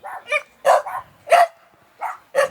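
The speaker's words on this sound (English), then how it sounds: "That's got to be a dog" Dogs bark in a quick series of sharp, fairly close yelps, about six separate bursts spread unevenly, with short silences between them and no talking.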